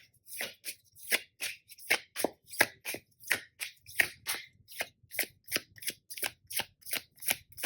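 Tarot cards drawn and handled in a quiet room, a regular series of crisp papery slaps and flicks repeating roughly every half second, close and clear with no voices.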